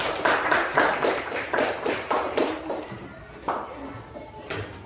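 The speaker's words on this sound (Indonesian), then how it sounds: "tepuk tangan untuk kelompok A" Classroom students clapping for group A during a maths lesson, a run of uneven claps that thins out and fades toward the end, moderately close and fairly quiet.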